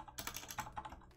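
Quick, faint clicks of fingers typing a terminal command on a computer keyboard, a short run of keystrokes heard up close with no voice.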